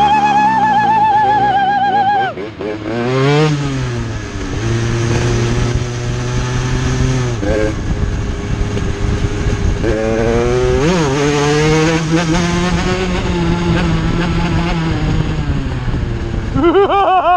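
A 125cc motorcycle engine, low on fuel, revs up and down repeatedly, loud and close, with rising and falling whines over a rough idle.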